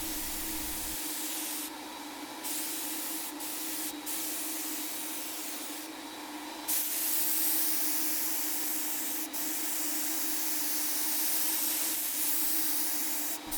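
A paint sprayer hisses continuously up close while spraying Sherwin-Williams paint on a side table, a steady airy spray broken by a few brief pauses and bursts.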